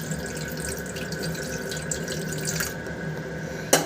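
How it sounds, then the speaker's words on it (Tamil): Water is poured into a pot set up for steaming a chocolate brownie cake, a continuous trickling, splashing stream close by, ending with a short clatter. "கொஞ்சம் தண்ணி ஊற்ற போகிறோம்"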